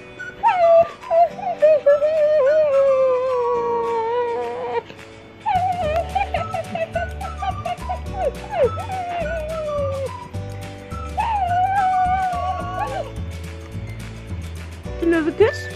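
Dog whimpering and howling in drawn-out, wavering whines that rise and fall in several long bouts, close and fairly loud, while a person speaks in the gaps.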